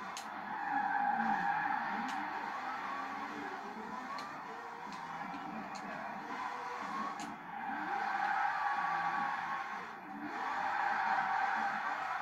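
A car drifting through donuts in Forza Horizon 4, with continuous tire squeal that swells and fades in long sweeps over a steady engine drone, loud and unbroken.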